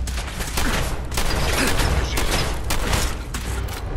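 A shotgun fires in Fallout 4 with several loud, booming blasts spaced about a second apart over a rumbling game background, with no talking.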